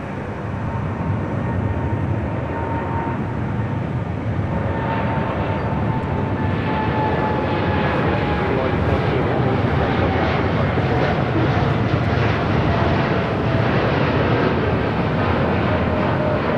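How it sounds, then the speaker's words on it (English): A jet airliner takes off at LAX, a broad continuous engine roar that builds and swells over the span, with a faint tonal whine riding on top, steady and fairly distant. "That was a beautiful takeoff there."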